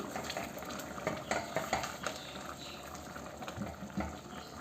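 Chicken curry with garam masala being stirred in a pot, soft quiet scrapes and bubbling with a few louder knocks of the spoon against the pot, no talk.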